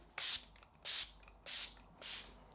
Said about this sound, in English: So I'm just going to give that a wee spray.